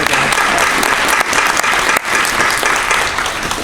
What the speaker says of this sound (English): Let's give our panel members a big round of applause.